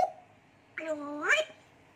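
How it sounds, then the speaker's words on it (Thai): A cat gives one short chirp, then after a brief pause a longer, clear meow that rises and falls, close and fairly quiet in an otherwise still room. "แมว"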